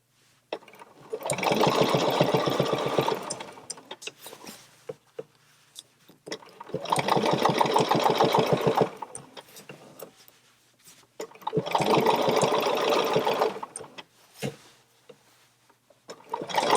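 Sewing machine doing free-motion ruler quilting on a real quilt, running in three long steady bursts of rapid stitching with short quiet pauses between them.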